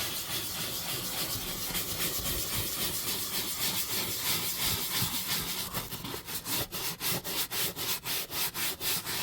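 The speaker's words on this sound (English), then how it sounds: "Let me just scrub this up and we'll see if this changes." Vigorous scrubbing of a dirty seat from a junkyard BMW, continuous rough brushing that turns into a fast rhythmic back-and-forth stroking near the end, close and without talk.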